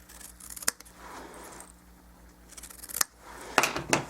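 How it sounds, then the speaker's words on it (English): Scissors snip excess paper off a handmade stippled blossoms bookmark, giving a few crisp cuts close by with paper rustling between them, and no talk. "So I'm just going to snip that off."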